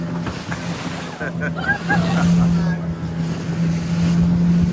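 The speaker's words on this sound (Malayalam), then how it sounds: "ബോട്ട് ഭയങ്കരമായിട്ട് ചാടിയൊക്കെയാണ് പോകുന്നത്." A motorboat engine drones steadily while the hull thumps over sea waves off Pondicherry, with rushing water and wind noise; voices talk faintly in the background.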